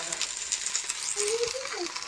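Bathua greens biriya fry in a small amount of hot oil with a steady, close crackling sizzle, and a brief faint voice-like tone passes over it.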